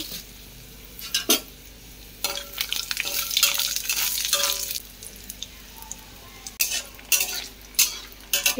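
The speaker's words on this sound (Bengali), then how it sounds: "কটা বড়ি ভেজে নেব" Bori lentil dumplings frying in a pan, with intermittent sizzling bursts and clinks of a utensil stirring, several sharp scrapes spaced through the clip, moderately close.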